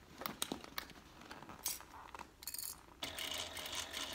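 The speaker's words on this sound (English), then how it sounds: "we have to do it so that we can sew this bag on the flatbed machine in the round." A flatbed sewing machine stitching a handbag bottom to its band, heard as irregular mechanical clicks and rattles followed by a steadier whirring run, close and moderately loud, with no talk.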